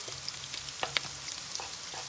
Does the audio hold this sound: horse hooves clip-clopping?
no